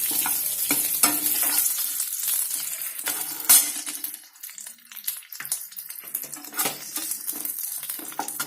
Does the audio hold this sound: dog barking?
no